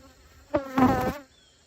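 Honey bees near a hive at a hobby farm, with one or two agitated bees buzzing close by in a brief loud drone lasting under a second.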